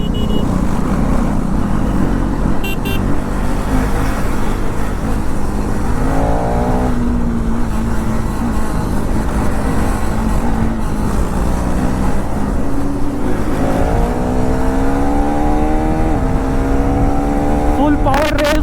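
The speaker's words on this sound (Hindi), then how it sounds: "फुल पावर रेस हो रही भाई आज।" KTM Duke 390, TVS Apache RR310 and Duke 250 motorcycles in a street race, engines roaring loudly and continuously up close, with repeated rising revs as they accelerate and people talking under the noise.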